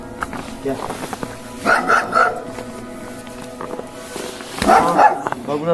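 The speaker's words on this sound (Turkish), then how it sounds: "Köpeğin sesine burada gör." A dog barks a few times in short bursts, close by, with voices talking around it.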